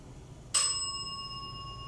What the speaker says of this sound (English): And the bell rang as I asked you that.